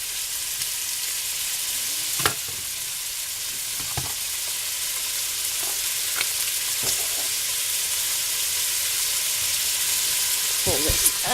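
Beef sautes in an Instant Pot with a loud, even sizzling hiss. Sharp clicks and scrapes of a utensil stirring the meat come every few seconds, and no one speaks.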